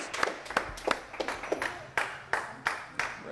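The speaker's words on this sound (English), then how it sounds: "keep that clapping going." An audience clapping at a live social networking chapter event, irregular sharp claps from a few people spaced out in an uneven rhythm, fairly close and sparse.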